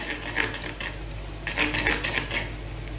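Egg being slowly stirred in a pan with a utensil, making soft repeated scraping and light clinking strokes in short clusters over a low steady background hum.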